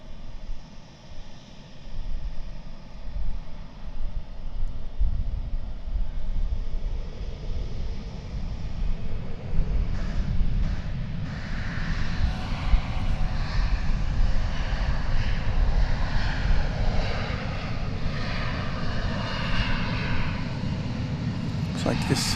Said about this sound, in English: Lufthansa take off in front of us.